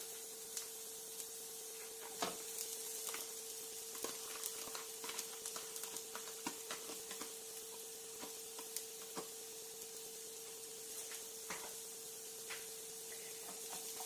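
Okra frying in a pan with browned onions, a faint continuous sizzle broken by light ticks and scrapes of stirring, with a steady low hum behind it.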